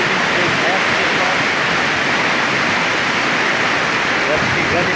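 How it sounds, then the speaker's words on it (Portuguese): Waterfall along the Cachoeira da Luz trail roars as a steady, loud, dense wash of falling water, unbroken throughout with no other clear sounds. "Chegando na linha da cachoeira aí."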